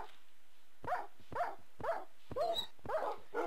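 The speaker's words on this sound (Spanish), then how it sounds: "¿Qué le pasa al puto perro, tío? ¿Por qué está llorando?" Dog in the Minecraft video game with a Resident Evil mod, whining and whimpering in five or six evenly spaced, close, clear cries with no talk over them.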